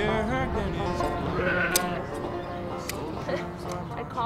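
Sheep bleating during shearing, several wavering calls rising over a busy background of speech and shed noise, with occasional sharp clicks and clatter.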